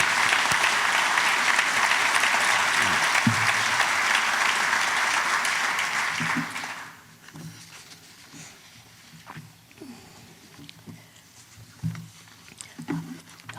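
An audience at the L'Chaim 2016 event applauds in honour of Betty A. Goldstein, a strong, dense ovation for about six seconds that quickly fades into scattered claps and quiet room noise with faint shuffling.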